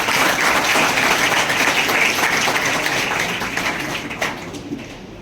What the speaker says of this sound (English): Please give clap for them.